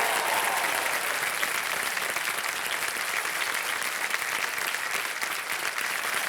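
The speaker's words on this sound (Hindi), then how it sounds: "मनीषा जी तालियां बच्चे आपके लिए।" A studio audience on the quiz show Kaun Banega Crorepati applauds a contestant's correct answer, dense steady clapping from many hands, loud and even throughout.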